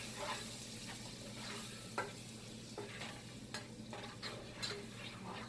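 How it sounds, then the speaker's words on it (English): Garlic and onions sautéing in olive oil for Jamaican-style coconut rice, a steady close sizzle with periodic scraping stirs and faint clinks of a utensil against the pot, no talking. "olive oil, the garlic, and the onions, and let's saute this a bit"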